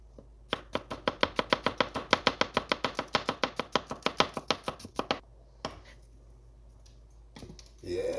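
An onion being chopped on a cutting board: a fast, steady run of crisp knife taps for about four seconds, then a few scattered cuts, with no talking.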